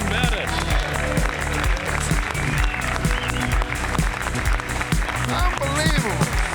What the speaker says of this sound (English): You shouldn't be clapping for him.